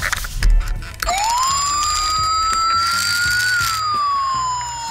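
A loud electronic police-style siren from a toy police car wails steadily, rising then slowly falling, with a sharp click and thumps just before it starts.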